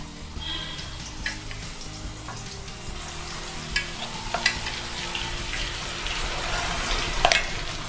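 Ground spice paste fries in hot oil in a kadai for fasting khichdi, a steady soft sizzle with occasional light clicks of a spoon stirring.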